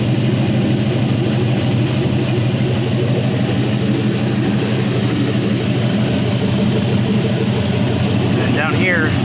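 A 4.8L LS engine idles with a constant loud, even low rumble throughout, steady with no revving, under faint talk and a brief higher whine near the end.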